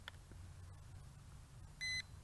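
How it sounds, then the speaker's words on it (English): A ZLL SG907MAX quadcopter gives a single short electronic beep during compass calibration, clear and close over a low background hum, with no talking. "Okay, a beep is heard."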